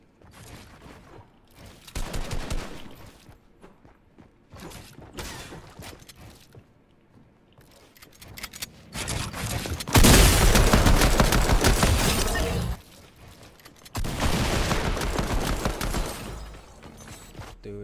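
Video game gunfire in an arena match, with bursts of rapid automatic shots and sharp cracks at close range, loud and intermittent with quieter gaps between bursts.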